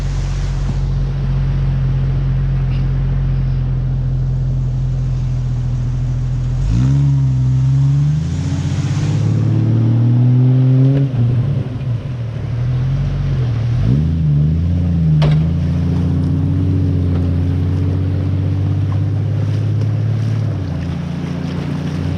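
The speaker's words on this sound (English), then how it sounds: "we're going to throw the boat off in the water" A boat engine rumbles steadily, then revs and shifts as the boat is launched off its trailer into the surf in South Africa, with surf and wind around it.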